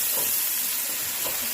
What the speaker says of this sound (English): I'm just going to saute my chicken